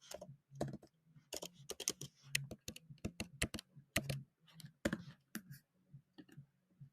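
Fast, uneven typing on a computer keyboard with crisp, close key clicks in short bursts and brief pauses, fairly quiet and without speech.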